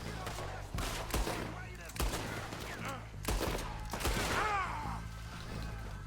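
Gunfire in Red Dead Redemption 2 during a swamp chase, repeated sharp shots cracking at irregular intervals over a low steady background, with players talking over it.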